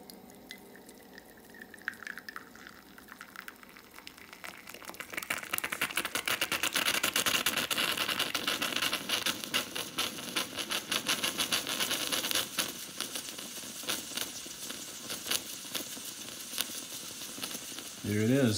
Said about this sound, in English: it's just going to be a short time before it boils and comes out the spout in the top.